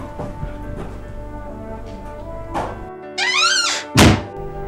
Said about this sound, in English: He banged the door on me.